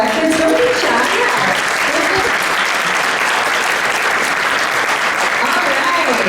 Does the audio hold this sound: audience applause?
yes